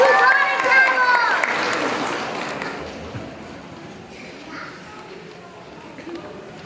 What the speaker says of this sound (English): Let's give a round of applause for Callum.